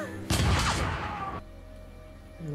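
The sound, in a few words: gunfire in Westworld episode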